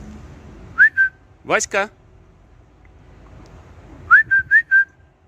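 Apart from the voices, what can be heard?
person whistling to call a cat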